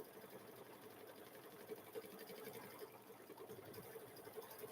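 A home embroidery sewing machine quilting a chicken-pattern quilt in the hoop hums steadily with a fast, even needle rattle, faint and continuous throughout.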